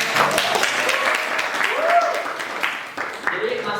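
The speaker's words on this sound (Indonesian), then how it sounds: "Oke, tepuk tangan." Students applaud in a classroom during a basic photography lesson, a steady burst of close clapping with voices chattering over it and a short dip near the end.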